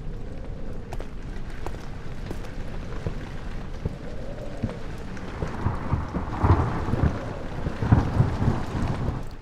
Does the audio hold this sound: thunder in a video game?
yes